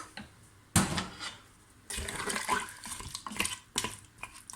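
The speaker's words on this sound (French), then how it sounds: "À ce stade, je vais rajouter un petit peu d'eau." Water poured into the pot of a Cookeo multicooker while a fish tagine is being made, heard as close, splashing bursts of liquid that start and stop several times.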